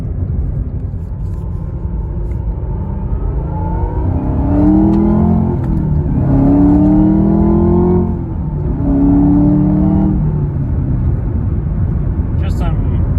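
Loud and close, a Chevrolet Camaro ZL1 1LE's engine climbs in pitch through several short-shifted gears, each rising sweep cut off by a shift and a lower restart, with a voice talking over the drone.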